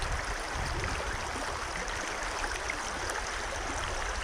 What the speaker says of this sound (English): This is the Noatak River, site of our first campsite.